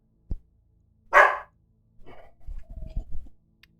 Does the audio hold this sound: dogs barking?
yes